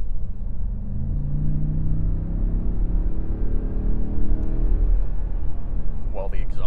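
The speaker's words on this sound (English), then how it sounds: "Well, the exhaust is definitely throatier." Ford F-150 Tremor pickup exhaust in sport mode, a deep throaty rumble that rises and swells as the truck accelerates, loud and close, with a brief higher whine near the end.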